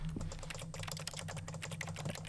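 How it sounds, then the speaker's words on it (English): Rapid, continuous clacking of computer keys in The Stanley Parable, dense uneven keystrokes close and clear throughout with no talk. "I want to tap, tippity tip tap tap on the keys"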